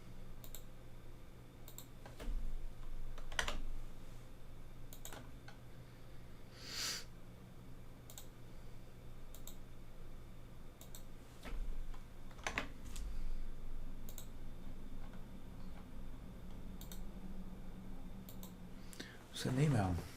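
Sparse clicks and taps on a computer keyboard, including Control shortcuts, with scattered single keystrokes and brief bursts over a low steady hum, close but fairly quiet.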